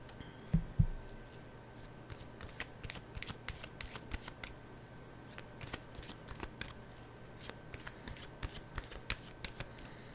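A deck of animal oracle cards is shuffled by hand, giving quiet, crisp riffling flicks and taps that repeat irregularly throughout at close range.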